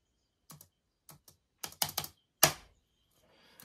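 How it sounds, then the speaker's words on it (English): A few scattered keystrokes on a computer keyboard that may be sticking, close and crisp: isolated taps, then a quick cluster and one louder clack, with silence between. "I think my keyboard might be sticking."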